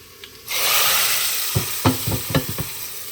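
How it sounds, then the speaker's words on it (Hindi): Tadka of spices tempered in hot oil in a kadai, a loud sudden sizzle that hisses steadily, broken by a few stirring scrapes. "ये देखिए कड़ाका सा हमारा तड़का लग चुका है।"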